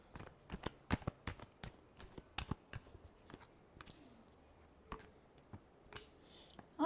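Tarot cards being shuffled by hand, a dense run of quick crisp riffling clicks and slaps in uneven bursts, fairly close and quiet, with no talking.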